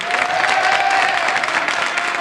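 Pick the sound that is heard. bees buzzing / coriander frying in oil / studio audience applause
studio audience applause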